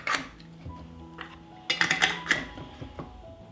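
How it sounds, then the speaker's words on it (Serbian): Glass jars being closed with clean new lids: a few sharp clinks and scraping metal-on-glass knocks, close and fairly loud, with brief pauses between them. "tegle zatvaram sa čistim i novim poklopcima"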